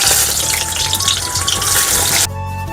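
Brinjals hiss and sizzle as they go into hot oil in a wok over a bamboo-fired stove, a loud, dense crackle that suddenly drops to a quieter steady hum near the end.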